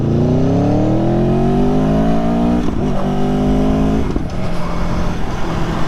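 A 2018 Aprilia Tuono Factory motorcycle ridden through a canyon, its engine loud and close as it revs up steadily, eases off, and pulls again.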